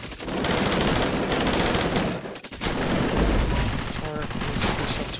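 Automated turret in the video game Cepheus Protocol firing sustained rapid bursts, loud and continuous, with a brief gap midway before the gunfire resumes; a voice talks over it.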